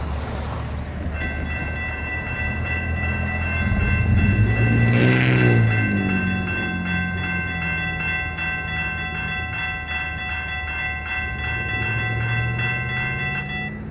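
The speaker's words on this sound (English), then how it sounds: "Train will be here shortly." A Florida East Coast (FEC) train passes a County Road 210 grade crossing, its horn sounding in a loud, sustained blast that peaks and fades while steady crossing-bell tones ring throughout and rail rumble continues underneath.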